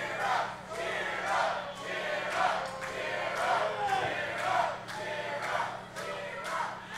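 Crowd at an OVW professional wrestling event cheering and chanting, a dense roar of many voices rising and falling in rhythmic surges under a steady hum, with no individual speech.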